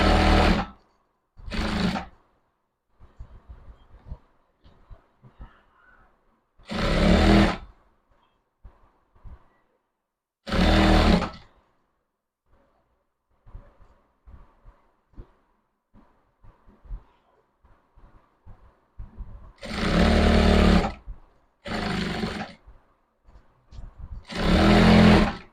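A sewing machine stitches an upholstered car seat cover in bursts of a second or two, each run starting and stopping sharply, with long quiet gaps of faint handling noise between them.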